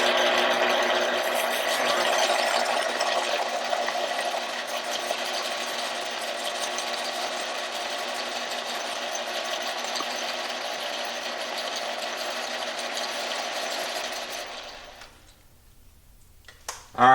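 A boring bar cuts an engine cylinder during an overbore job, taking a heavier pass: a steady, close mechanical whir and rattle holds for about fifteen seconds, then stops abruptly into near silence.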